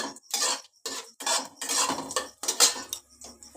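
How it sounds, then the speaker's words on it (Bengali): Panch phoron whole spices stirred in a pan for amla pickle, bursts of spoon-on-metal scraping and rattling in quick uneven strokes, close and fairly loud, with short silent gaps between. "সামান্য একটু নেড়ে নিচ্ছি পাঁচ ফোড়নটাকে"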